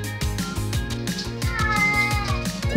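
A cat meows repeatedly over background music, several short yowls in a row, fairly loud and close.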